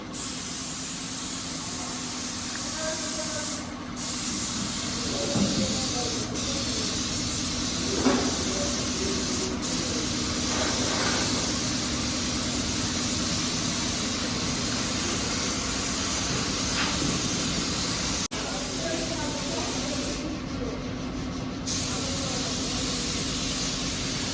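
A spray gun hisses steadily while painting a lorry black, a loud, continuous airy rush with short breaks near the start and toward the end.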